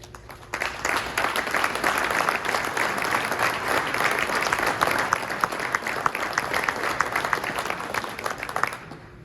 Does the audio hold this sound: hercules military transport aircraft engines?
no